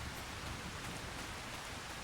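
Steady rainfall in a farming video game, a dense, even hiss of falling rain with no breaks, moderately quiet and continuous throughout without any voices.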